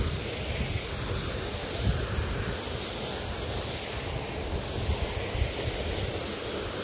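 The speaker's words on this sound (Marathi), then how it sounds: "आहे तो वॉटरफॉल" Steady broadband rush of a waterfall near a dam in Kerala, heard from close by as continuous roaring noise with faint wind buffeting and no voices.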